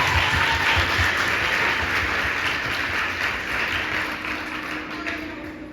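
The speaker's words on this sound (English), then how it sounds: "And I think this really deserves a big round of applause." Sustained crowd applause at a secondary school book handover in Cape Town, steady dense clapping throughout that eases slightly toward the end.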